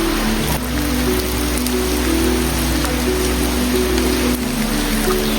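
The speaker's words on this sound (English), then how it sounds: "So we're at the Weeping Rock, and here's the waterfall." Water from the waterfall at Weeping Rock in Zion National Park falls in a steady, close, rain-like patter and splash, continuous and fairly loud throughout.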